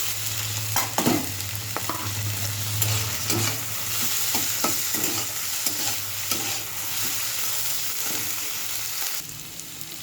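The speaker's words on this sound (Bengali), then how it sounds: "ঘি করলাটা কেটে ধুয়ে রেখে দিয়েছি, এই যে এবারে দিয়ে দিলাম।" Sliced bitter gourd frying in hot oil in a pan, a continuous loud sizzle broken by repeated scraping and clacking strokes of a spatula stirring, with no talk.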